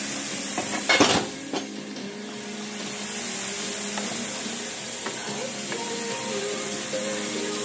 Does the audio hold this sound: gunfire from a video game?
no